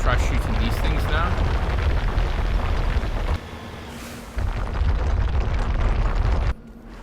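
Gunfire and explosions in Mass Effect, loud and nearly continuous booming bursts with a brief lull midway, mixed with a speaking voice.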